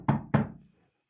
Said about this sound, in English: knock at wood